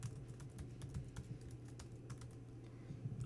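Keys tapped on a computer keyboard while entering a password, a quick irregular patter of soft clicks over a low steady hum, no voices.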